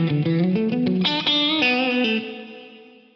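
A Lexicon PCM81 running its chorus+reverb algorithm with diffusion cranked up turns a short run of loud, shimmering instrument notes into a wide, lush wash that rings out and fades over about a second.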